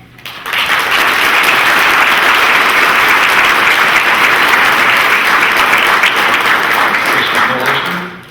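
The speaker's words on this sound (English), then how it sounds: "if they could please stand so we can give them a round of applause" Audience applause for graduates at a Navy MLT graduation ceremony, a loud, dense and continuous roar of clapping from a large crowd that rises sharply, holds at full strength for about seven seconds, then fades.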